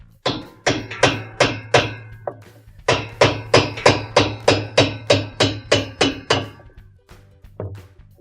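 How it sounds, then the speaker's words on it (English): Hammer tapping a washer's drive block counterclockwise to loosen it: a quick run of sharp metallic taps, loud and close in steady rhythm, with a brief pause partway through and a few final taps. "we're going to loosen it by tapping counterclockwise"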